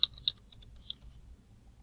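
A few quick keystrokes on a computer keyboard typing a short word for an Easter shaker card design, crisp clicks near and clear, then fading into quiet room hiss.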